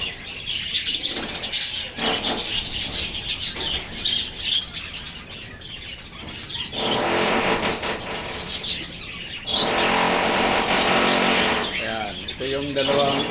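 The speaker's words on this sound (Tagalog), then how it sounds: "ito na yung una kong mga alagang kalapate" Pet pigeons on a rooftop in the Philippine countryside give chirps and squawks, with wing flaps and traffic-like noise mixed in, and someone talks over much of it.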